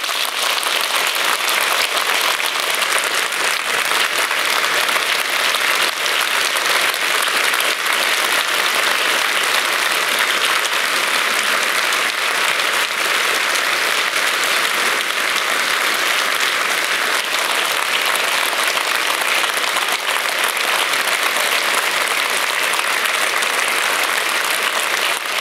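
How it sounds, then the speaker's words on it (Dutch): Sustained, loud applause from a large congress audience in Den Bosch honoring a European politician, dense and steady for the full stretch, with no talk over it. "en hem een applaus te geven voor alles wat hij voor ons gedaan heeft"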